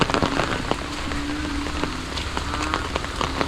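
Heavy overnight rain pelts down outdoors, a loud, dense, continuous patter with sharp individual drops striking surfaces nearby and no talk.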